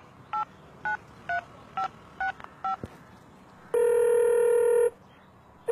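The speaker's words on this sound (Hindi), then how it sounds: "पापा को फोन करता हूँ।" Telephone keypad dialing a number: six short, evenly spaced DTMF beeps, followed by a longer steady tone lasting about a second, close and clear over a quiet room.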